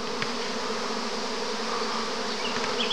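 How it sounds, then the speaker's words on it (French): A small swarm of honeybees buzzes steadily in the open air, a dense continuous drone of many wings, with no talking. "C'est pas un très gros essaim."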